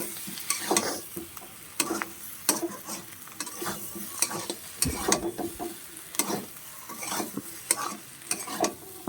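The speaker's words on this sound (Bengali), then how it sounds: "এমনভাবে কষাই করতে করতে ভালোভাবে একটু নাড়াচাড়া দিতে হবে যাতে পুড়ে না যায়" Potatoes frying in oil for aloo dum are stirred and tossed in a pan, a steady sizzle broken by repeated scraping spoon strokes in an uneven rhythm, close up and with no voices.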